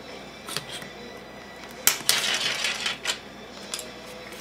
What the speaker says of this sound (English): Take an X-Acto knife, cut the sticker.